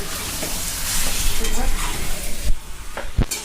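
Red chicken curry sizzles steadily in a pan as it is sautéed and stirred, with a broad frying hiss broken by a few sharp scrapes and clinks of the spoon near the end.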